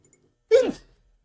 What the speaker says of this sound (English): Sneezing time.